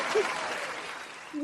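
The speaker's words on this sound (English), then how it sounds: "Round of applause." Brief, fairly quiet clapping from a small group, lasting only a moment.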